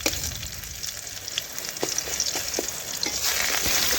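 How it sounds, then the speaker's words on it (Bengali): Sushni greens stir-fried with browned garlic in a pan, a loud continuous sizzle and crackle up close with faint scraping stirs running underneath. "এই দেখুন এইভাবে মিশিয়ে ভালোভাবে নাড়াচাড়া করে একটু ভেজে নিলেই তৈরি হয়ে গেল শুশনি শাক রেসিপি"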